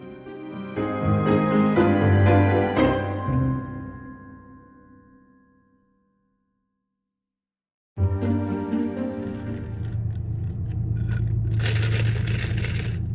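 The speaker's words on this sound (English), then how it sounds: "That's the sound of the ice still being in my iced coffee" Ice cubes rattle and clatter inside an iced coffee cup after sitting in a car, a loud close jostling that fades into a few seconds of silence before another burst of rattling and shaking.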